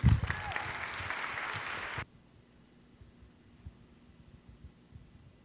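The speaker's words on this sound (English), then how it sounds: "Give them a round of applause, please." Audience applause at a high school winter band concert, a loud burst of many clapping hands lasting about two seconds that cuts off abruptly, leaving only a low room hum and faint shuffling.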